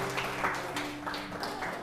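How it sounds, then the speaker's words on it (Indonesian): A church congregation at a Sunday service claps together, a brief, steady wash of applause heard from within the room at moderate volume. "Thank you, kasih tepuk tangan buat Tuhan."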